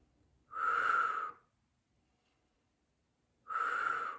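Two deep breaths taken during a Pilates exercise: a long, airy exhale of about a second, a pause of silence, then the next breath beginning. Close, clear and wheezy, with no talking.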